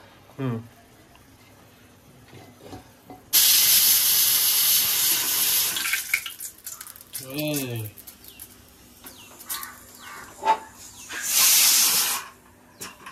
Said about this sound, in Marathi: आता याच्यावर तेल घातलंय, तेल गरम व्हायला।